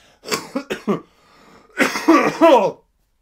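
A man's coughs, a quick burst of three or four short harsh coughs followed by a longer throaty cough and throat clearing, close and loud with brief silence between.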